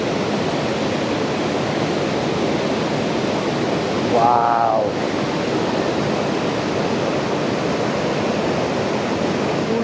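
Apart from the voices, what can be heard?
waterfall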